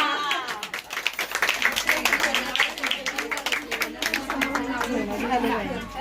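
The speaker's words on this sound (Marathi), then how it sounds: "टाळ्या" Applause and hand clapping from a crowd of family and guests at a baby naming ceremony, steady and dense throughout, with chatter and voices mixed in.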